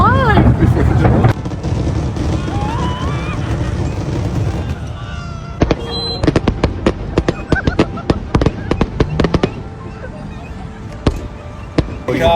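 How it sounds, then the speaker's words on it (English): Fourth of July fireworks burst in a series of sharp, loud cracks and pops across the night, with people talking and exclaiming throughout. "They got fireworks going off for me because I got here the other day."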